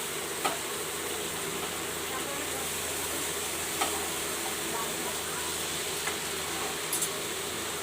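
Taro stems cook with fish in a frying pan, a steady low sizzle with a few sharp ticks and utensil taps spaced several seconds apart.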